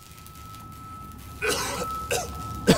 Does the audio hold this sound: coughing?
yes